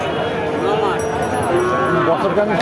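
Young heifer calves at a crowded rural cattle market moo loudly and repeatedly nearby, their calls overlapping with the chatter of people bargaining around them.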